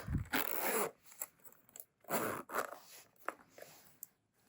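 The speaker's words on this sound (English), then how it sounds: "But it zips up." Zipper on a pen case drawn shut in a few quick, close rasping strokes separated by short pauses, faint and alone.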